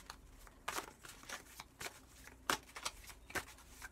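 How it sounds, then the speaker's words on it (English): Tarot cards being shuffled during a reading, with soft papery riffles and slaps arriving in irregular bursts, fairly close but faint, with no talking. "we're just giving them one last good shuffle"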